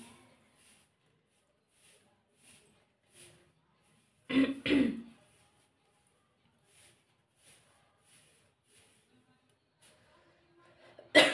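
A person coughs and clears their throat twice in quick succession, close by, then again at the end, with faint rustling and quiet between.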